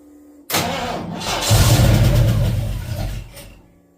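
A 1972 Ford Mustang Mach 1 under restoration cranks and fires up loudly nearby, its engine catching and swelling into a rough, rising rev before settling and fading toward the end.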